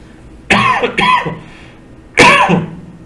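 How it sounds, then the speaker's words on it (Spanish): Three harsh coughs, close and fairly loud: two quick ones in succession, a short pause, then a third, with quiet room tone between them. "no tengo coronavirus, nada más me dio tos."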